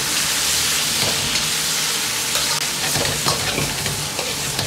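Drained spices hiss and sizzle in a hot wok with soy sauce while being stir-fried, a loud, dense, continuous frying sound with scraping and tossing mixed in.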